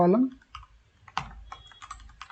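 Quick, light clicks of typing on a computer keyboard come in short, uneven bursts at close range, following a brief voice at the very start.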